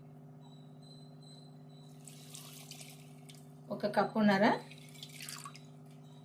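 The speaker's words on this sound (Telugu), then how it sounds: "వాటర్ పోసుకుందాము." Water is poured into moong dal with tomato and coriander for a thin Telangana tomato dal. A brief splashing pour lasts about a second over a steady electrical hum, and a voice speaks nearby.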